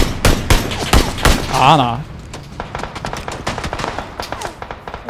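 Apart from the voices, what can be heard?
gunfire in the video game PUBG (Battlegrounds)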